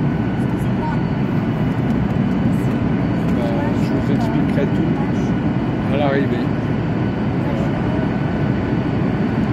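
Steady, loud broadband roar of an airplane cabin in flight, with someone speaking briefly over the engine noise.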